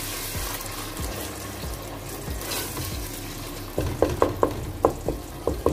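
Tomato paste being stirred into frying onions for chana dal, a continuous wet sizzle under rhythmic spoon scrapes, followed by a run of sharp regular clinks against the pan, close and with no speech.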